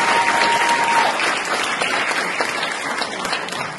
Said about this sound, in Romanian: încă o mână de aplauze pentru fetele noastre extraordinare